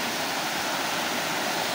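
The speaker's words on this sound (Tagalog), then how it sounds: "yung dating kalsada ay naging ilog na." A swollen mountain river rushes over what used to be a paved road, making a loud, steady, broadband roar with no voices.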